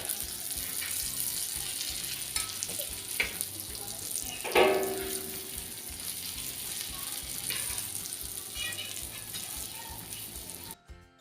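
Pomfret fish frying in a pan over medium gas, a continuous hissing sizzle with a sharper spattering burst midway and a short clatter near the end.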